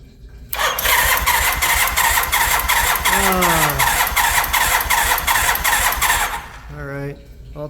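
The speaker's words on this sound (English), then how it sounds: "I'll crank the engine over, and all I'm going to do is short the 2 posts out on this." A Honda CB450 Nighthawk motorcycle engine cranks steadily for about six seconds as a shorted starter solenoid spins it over, a loud rhythmic churning that stops abruptly, followed by a brief beep.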